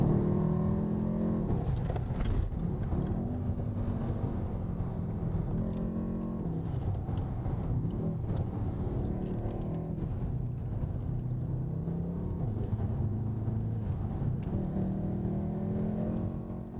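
A modified car accelerates and weaves through city traffic, its engine droning loud and close with repeated rising revs and gear changes, road and wind noise underneath, no voices.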